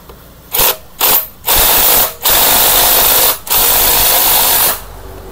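A power tool tightens parts on a Mio Sport scooter, firing loud, close whirring bursts: three short blips, then three longer runs of about a second each, with brief pauses between them.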